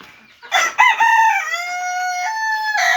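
A rooster on a family poultry farm crows once, loud and close, in a long drawn-out call that starts with a few clucks and ends in a rising final note.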